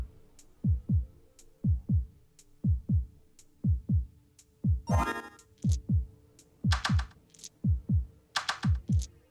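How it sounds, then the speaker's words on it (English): A steady thumping heartbeat effect in the dice roguelike game Dicey Dungeons pulses in double beats throughout, with bright chiming game effects and a brief rattling burst layered over it. "You barely even start before it starts giving you the heartbeat"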